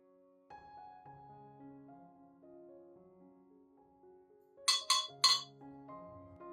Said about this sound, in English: Next, add 3 tablespoons of rice powder into the glass.